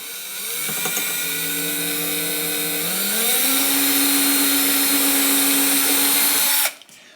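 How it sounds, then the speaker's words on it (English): A power drill whirs steadily while drilling into an archtop guitar during neck removal, its motor pitch rising partway through as the bit bites, then cuts off abruptly near the end. "we're going to have to drill in a little bit this way"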